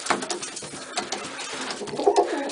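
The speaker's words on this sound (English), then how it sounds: "All the pigeons are in here." Racing homer and Birmingham Roller pigeons coo softly inside a loft, their low calls rising briefly near the end over a steady wash of background noise.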